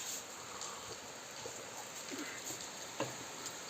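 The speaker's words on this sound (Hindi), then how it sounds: "बारिश बहुत ज़्यादा तेज़ हो गई है" Heavy rain falls in the hills of Uttarakhand, a soft, steady patter of drops on surfaces with a few sharper close splashes, fairly quiet and continuous with no talking.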